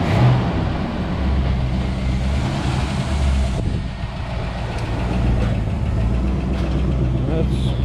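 A barn-find 1973 Chevy Chevelle SS 454 V8 with a Muncie 4-speed, running on bad gas, idles steadily with a low rumble throughout while people talk over it.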